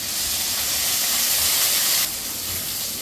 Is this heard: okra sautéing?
yes